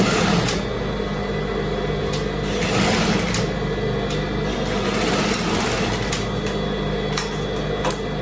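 A sewing machine runs steadily while stitching a dress, a continuous close-up mechanical whir with small shifts in speed and no pauses.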